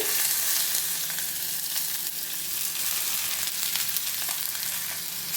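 Chopped onion, green chilli and curry leaves fry in a pan with a steady, close sizzle that holds for the whole stretch with no one speaking.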